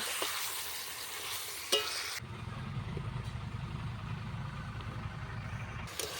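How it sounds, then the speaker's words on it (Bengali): Onion and chicken frying in a pan: a bright sizzle at first, then a denser, lower rumbling fry with steady stirring. A sharp clank from the utensil comes early, and there is no talk. "দেখুন ভালো করে নাড়িয়ে নিয়েছি, মাংসটাও কিন্তু অনেকটাই ভাজা হয়ে গেছে"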